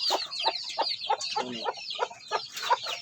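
Several week-old native chicks give a steady run of high, short chirps and clucks, repeated in a quick irregular rhythm, close by and fairly loud, with no talk over them.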